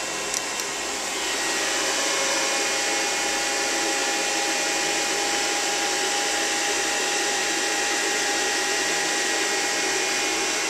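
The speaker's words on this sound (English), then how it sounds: "zero your machine. Over to zero." A Hyundai SPT-V30T CNC machine with a Yasnac MX3 control auto-returns its axes to zero, producing a steady, high-pitched motorized whine and hum that swells in early and holds evenly, close and loud.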